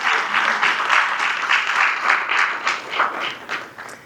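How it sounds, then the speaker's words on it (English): An audience at a Hall of Fame ceremony claps for past honorees, steady applause of many hands for about four seconds, gradually thinning toward the end. "How about a round of applause for our past honorees?"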